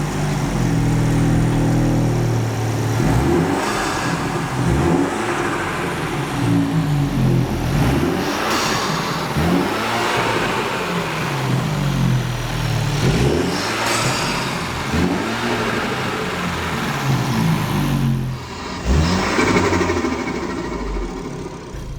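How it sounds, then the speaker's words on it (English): MINI F56 John Cooper Works engine fitted with a new intake, running loud and close with repeated revs rising and falling over a rough idle, induction noise prominent, no talking. "We are now ready to start up the car, test if everything is okay, and of course see how it sounds."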